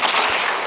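A grenade launcher fires in Call of Duty Mobile, a single loud, sharp game-weapon shot with a thudding low burst and a bright, sustained crackle over a brief moment.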